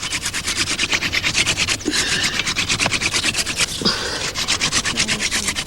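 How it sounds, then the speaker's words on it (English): Hardwood rubbed back and forth against softwood to make fire, a close, steady rasping scrape repeating in fast even strokes with a couple of brief pauses. "they recreate fire by rubbing a piece of hardwood in the vein of a piece of softwood"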